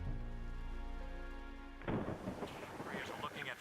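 A storm breaks in a deep rolling rumble of thunder that drops away into a busier wash of falling rain and crackling drops, fairly faint overall.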